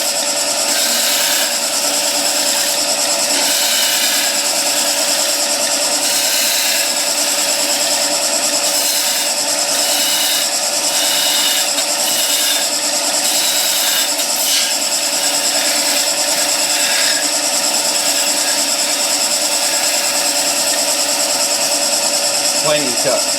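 A woodturning lathe making a peeling cut gives a continuous loud whir with a bright, rasping cutting hiss and faint rhythmic pulses throughout, with no talk.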